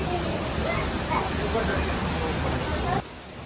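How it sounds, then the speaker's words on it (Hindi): A waterfall roars inside Robbers Cave (Guchhupani) near Dehradun, a dense, continuous rushing wash of water echoing in the rock passage that cuts off abruptly near the end. "झरने की आवाज़ इतनी तेज़ थी"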